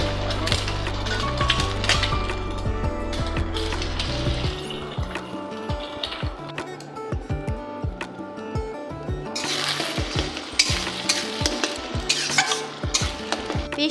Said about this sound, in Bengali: প্রথমে ওভেনে কড়াই চাপিয়ে তাতে সামান্য সর্ষের তেল দিয়ে ডিম দুটোকে ভুজিয়া করে নিতে হবে।